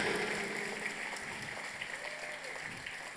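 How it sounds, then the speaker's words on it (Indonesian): A crowd at the closing gathering of a Madurese religious lecture claps together, a steady even patter of applause heard at moderate level throughout. "Tepuk tangannya."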